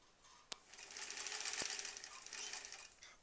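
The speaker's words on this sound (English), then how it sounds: "I guess we'll sew from the top here" A sewing machine stitches quilt fabric pieces, a quiet rapid whir of needle strokes running for a few seconds after a sharp click, close and alone.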